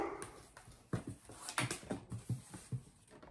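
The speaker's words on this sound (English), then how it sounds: "Excuse my dog's barking." A dog gives a few soft whimpers followed by a quick run of short, sharp yips and barks, fairly close but not loud, with no talking.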